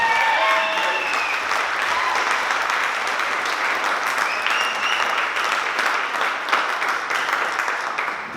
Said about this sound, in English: A round of applause for Lindsay Stevens.